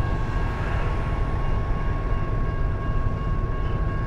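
A freight train rolls past near Denair, California, giving a steady, loud rumble and rolling clatter throughout with a faint high whine, no voices over it.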